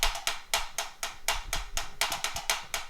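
A snare drum played in a steady rhythm with an unbalanced, quieter left hand gives sharp, close strokes in a regular pattern, where loud accents alternate with noticeably softer hits, and nothing else is heard.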